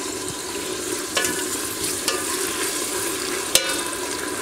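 Tomatoes fry and sizzle in a pan as a steady, soft crackle, with a few brief clicks and scrapes as the food is stirred.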